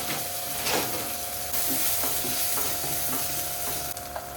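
Garlic frying in a hot pan over high heat, a constant crackling sizzle with repeated spatula scrapes and stirring strokes close by.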